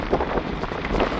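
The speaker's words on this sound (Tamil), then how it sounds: "பாருங்க நல்ல ஒரு காற்று அடித்து கொண்டு இருக்குது." Strong wind in a heavy rainstorm by the sea, a close, loud rushing roar with buffeting gusts hitting the microphone throughout the brief moment.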